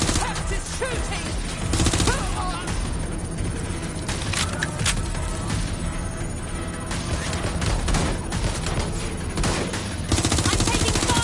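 Video game gunfire in Watch Dogs Legion: dense, continuous bursts of automatic shots, loud and close, with occasional crashes and shouted voices mixed in.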